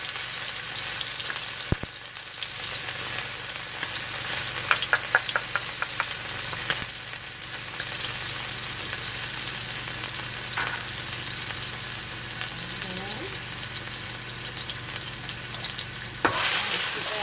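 Garlic stir-frying in a pan for a basil eggplant stir fry, a continuous close sizzle with light spatula clicks and stirring noises, plus a brief louder scrape near the end; no one speaks.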